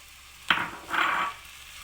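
Green chillies hitting hot oil in a pan for egg fried rice, giving a sudden sizzling burst that fades and then flares again as they are stirred, close and fairly quiet with no talking.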